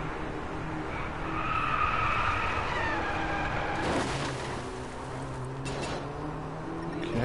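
Tires screech in a drawn-out skid as a car is thrown into a handbrake turn in the racing game Driveclub, a wavering squeal over steady engine roar, followed by a few sharper scuffs; no speech.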